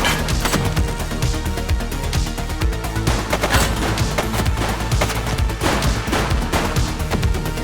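Dense gunfire erupts as a shooting suspect fires during a police shootout in the game The Precinct, a loud, relentless stream of overlapping shots and crashing impacts with no pause and no voices.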